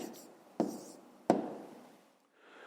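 A pen or chalk writes down a number answer for a fifth-grade maths exercise, leaving a couple of short, close strokes and taps with quiet gaps between them and no talking.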